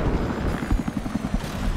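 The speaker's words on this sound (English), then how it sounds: "The chopper's up." A helicopter flying in the Battlefield 4 video game: loud, continuous rotor thumping with a steady pulsing beat and engine roar, with no other sound over it.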